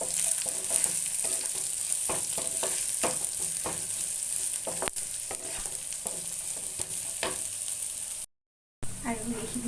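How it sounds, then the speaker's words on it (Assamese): Chopped vegetables and onion fry in a pan for macaroni, crackling and sizzling steadily up close with repeated stirring scrapes and clinks, then a brief drop to silence near the end. "এইখিনি চব্জিখিনি ভাজি হৈ গ'ল"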